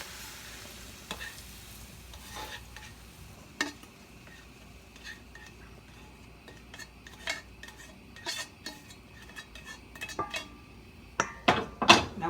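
Cooked chicken from a skillet is moved back into a bowl amid sizzling, with scattered clinks and clatters of utensils and dishes growing louder and busier toward the end.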